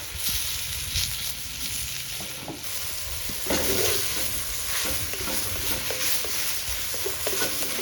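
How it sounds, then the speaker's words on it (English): Steak fries in a cast-iron camp oven with a loud, dense, crackling sizzle that carries on without a break, broken up by occasional scraping and stirring noises close by, and no one talking. "We want to fry and get that nice bit of caramelised fondant on the outside of the meat"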